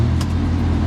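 Fox Body Mustang convertible with a 306 engine swap running, a loud, close, steady low engine rumble held for under a second.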